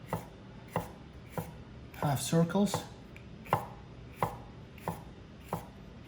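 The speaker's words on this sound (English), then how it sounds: "I'm just going to dice these peppers into" A knife chops bell peppers on a cutting board in sharp, evenly spaced knocks, about ten strikes with a short spoken pause in the middle.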